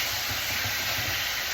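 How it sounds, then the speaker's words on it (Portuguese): Onion and chicken fry in a pan, a loud, continuous sizzling hiss that fills the space evenly with no pauses or voices. "o barulho da fritura é bem alto"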